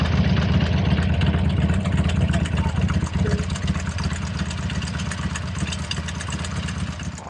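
A Harley-Davidson Sportster 48 motorcycle engine idles with a steady, loud, low rumbling throb throughout.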